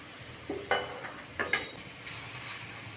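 Cabbage pakoras fry in oil with a soft, low sizzle, overlaid by a few brief scraping and stirring clinks from a utensil in the pan.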